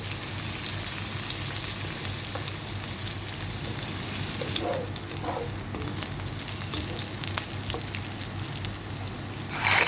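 Chopped onion fries with garlic in a pan, a steady close sizzle with crackling pops and a few clinks of stirring partway through, continuing without any voices.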